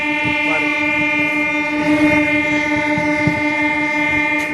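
A passenger train's horn blares loud and close in one long sustained blast, its steady chord riding over the rumble and rattle of the moving railway cars.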